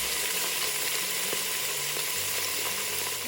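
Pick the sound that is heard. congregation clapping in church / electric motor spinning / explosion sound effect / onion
onion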